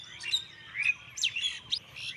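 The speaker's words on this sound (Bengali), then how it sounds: "এখানে পাখিগুলো খেলা করছে, কিচিমিচি করছে" Small birds chirp and tweet near a chili field at sunset, several quick bright calls in bursts, fairly faint but clear against a quiet background.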